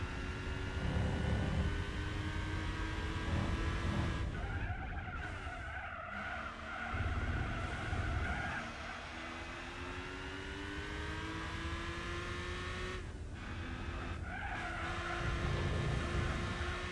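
Toyota Supra race car in Gran Turismo 4, engine droning with rising and falling pitch as it accelerates and shifts, tires skidding and squealing through corners, loud and continuous throughout with no talking.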